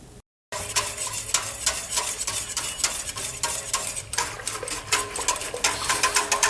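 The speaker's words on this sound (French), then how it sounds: "On fouette un peu pour ne pas avoir des grumeaux." A whisk beats corn and cassava flour into hot water to make fufu, producing rapid, rhythmic scraping and clattering against the pot that is loud and close, with a brief silence at the start.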